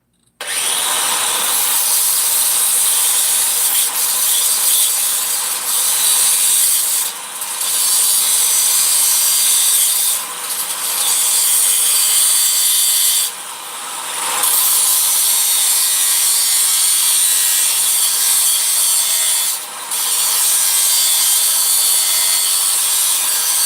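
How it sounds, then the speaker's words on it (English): A handheld grinder works down a protruding point on a metal piece, a loud steady grinding whine running almost the whole time with a few brief dips where the disc lifts off. "Got my grinder right here."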